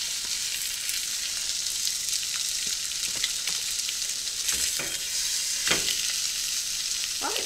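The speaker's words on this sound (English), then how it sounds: "I'm going to use the same pan to cook my sausage in" Mild ground Italian sausage browns in a frying pan with a steady, close sizzle, broken by a few sharper scrapes and pops as the meat is stirred; nobody speaks.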